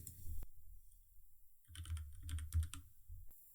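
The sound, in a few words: typing on a computer keyboard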